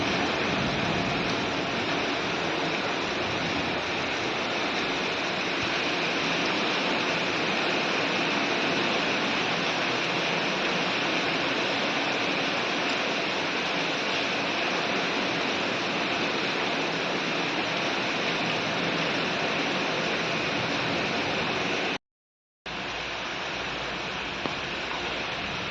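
Heavy rain pours down in Khunti, Jharkhand, a dense, steady roar that holds unbroken and close for the whole stretch, apart from one brief dropout near the end.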